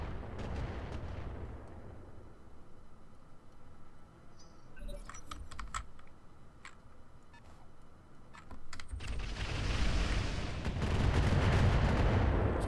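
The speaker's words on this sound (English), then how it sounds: "Oh, they finally got a missile launcher coming in." A missile launcher fires in a military video game, with booming launch blasts and sharp crackling impacts that swell into a loud roaring rush near the end, with no voices.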